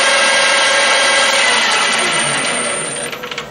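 A recess gun machining a die on a die filer gives a loud, steady high-pitched whine with a mechanical hum. It runs on its own, then eases off at the end with some clattering.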